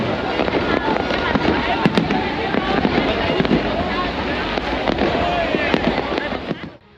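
Dense, continuous crackling and popping of fireworks in Ho Chi Minh City, Vietnam, with sharp bangs throughout, loud and sustained, before cutting off abruptly at the end.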